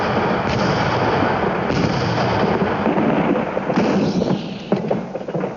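First World War artillery fire, including field guns such as the British 18-pounder and the French 75mm, booms as a dense, loud barrage of overlapping blasts and rumbling detonations that runs without a break.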